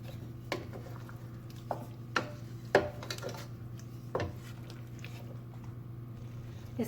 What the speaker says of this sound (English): You gotta keep stirring.